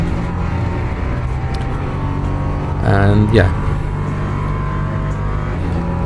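A steady, loud engine drone runs throughout, a Ginetta LMP3 race car in the Le Mans Ultimate video game held at high revs at Spa-Francorchamps, with a brief spoken phrase over it midway.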